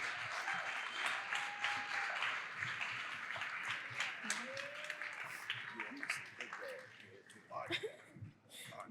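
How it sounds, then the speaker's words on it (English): An audience applauds guests on stage at the close of an event for "A Beautiful Resistance" by an author, sustained clapping and cheering at a distance, with voices talking and calling out over it. "give them a round of applause before we hit the after party"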